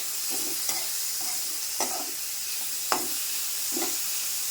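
Two large chopped onions fry in a pan under a soft, constant sizzle, with a spatula stirring and scraping the pan in separate strokes about once a second.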